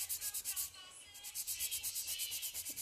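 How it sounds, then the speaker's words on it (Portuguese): Rapid rhythmic rasping of a nail file across poly gel nails, close and fairly quiet, a steady series of short strokes with a brief pause near the middle. "Vamos limar lateralmente."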